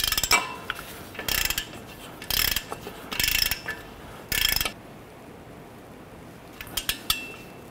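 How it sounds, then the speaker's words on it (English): Hand ratchet loosening front strut assembly nuts on a 2009-2015 Honda Pilot, heard as several short clicking bursts separated by pauses, close and fairly loud with no voices. "I'm gonna go ahead and loosen these nuts here."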